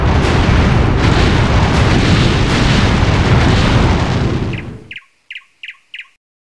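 A ship's cannon broadside in the video game Anno 1602 unleashes a long, loud rumbling roar of overlapping blasts that fades out, followed by four short sharp distant reports.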